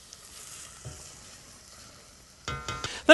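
Diced onions sauté in melted butter in a soup pot, a quiet faint hiss that stays low for a few seconds before louder spoon clatter and crackling arrive near the end.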